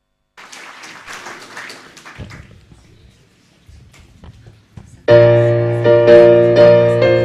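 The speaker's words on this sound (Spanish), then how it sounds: "Fuertes aplausos, por favor." A crowd claps at a Sunday church service for a couple of seconds, the applause thinning into scattered taps before loud choir music begins.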